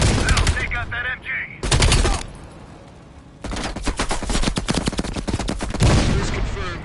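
Rapid machine gun fire in Black Ops Cold War, delivered as several loud, close bursts of dense rattling shots separated by brief pauses, with one sustained long burst toward the end.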